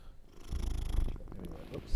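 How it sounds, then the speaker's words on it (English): A cat purrs close by, a low steady rumbling that swells through the middle, with some faint voice in the background. "the cat wants some attention"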